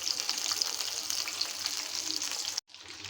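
Pointed gourd and chicken fritters fry in hot oil, a close, continuous hiss and crackle that holds steady before a brief cut, with no talk.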